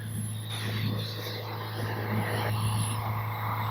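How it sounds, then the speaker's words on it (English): A small twin-propeller RC airplane, an X-Fly Twinliner with 40mm motors, drones overhead with a steady whine, fairly faint and distant, with faint wind and background noise before a storm. "Oh, what a good looking little plane."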